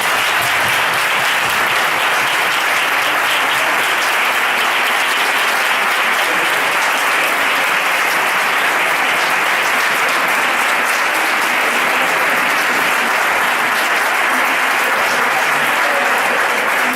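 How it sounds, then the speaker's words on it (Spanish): A congress audience in Seville gives judge Francisco Serrano a strong, sustained round of applause, many hands clapping at a constant loud level throughout without pause. "me gustaría dar un fuerte aplauso"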